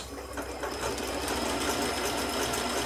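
A sewing machine fitted with a fringe foot triple-stitches the start of a seam, giving a steady, close whirring buzz that runs without a break and with no talking.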